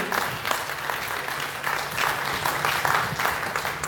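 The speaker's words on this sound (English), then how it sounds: "Let's give another round of applause for all these videos played." An audience at a youth video contest finals applauds, a steady wash of clapping in a hall with small swells and dips throughout, heard alone without talk.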